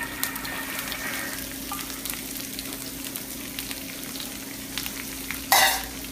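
Ground pork, beans, onions and fresh chili stir-fry in a hot pan, a steady close sizzle with light stirring that ends in a sharp scrape of the utensil.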